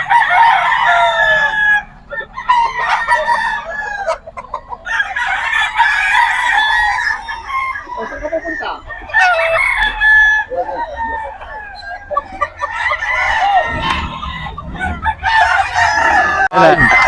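Roosters crow loudly and repeatedly at a chicken market in Bocaue, Bulacan, Philippines, one call after another, with hens clucking between the crows in a busy chorus.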